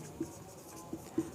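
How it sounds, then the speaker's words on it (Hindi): Writing on a board during an anatomy lesson on blood cells: a few soft, brief scratchy strokes, close and quiet, with no talking over them. "मैं यहाँ पर लिख देता हूँ"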